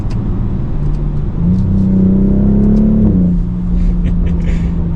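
A 2026 BMW X3 M50 six-cylinder SUV accelerates, a loud close engine rumble that rises in pitch through a gear, then settles back to a steady drone.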